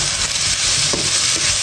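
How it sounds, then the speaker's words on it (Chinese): Beef tipped into a wok of scallion, ginger and garlic and stir-fried, a steady close hiss of frying with scraping stirs and no talk. "炒香以后把牛肉倒进来"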